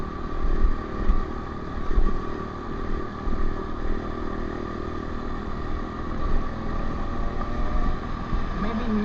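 Honda CRF125F four-stroke dirt bike with no radiator, ridden out along a canal, its engine droning steadily and surging a little throughout, heard from close by with wind and road noise.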